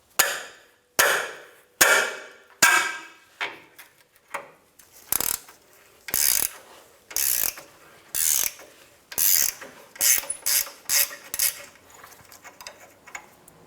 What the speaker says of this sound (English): Using a 19mm wrench, remove the nut off of the bottom.